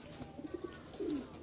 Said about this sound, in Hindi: मेरे पास सिर्फ़ और सिर्फ मियाँ नज़ीर साहब वाली जो ब्लड लाइन है उन्हीं में से कबूतर हैं